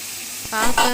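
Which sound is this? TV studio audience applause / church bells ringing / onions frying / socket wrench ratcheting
onions frying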